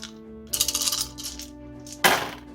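Dice from the Titans fantasy board game tumble and clatter across a table in two bursts, a longer rattling roll followed by a sharp, close clack, with a low steady hum underneath.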